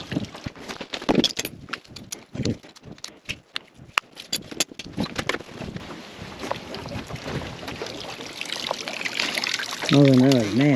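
Rainwater running out of a barrel set up to fill a swimming pool, a steady trickling and splashing flow with clatters and handling noise, wind buffeting the microphone, and a person briefly humming near the end.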